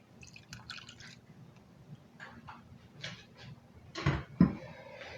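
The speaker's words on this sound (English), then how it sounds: "You are going to want the melted butter." Melted butter is poured into orange pound cake batter, giving faint soft drips and splashes over quiet room noise, ending with two louder wet plops.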